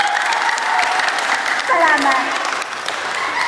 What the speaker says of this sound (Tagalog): isa ka malagapak nga palakpak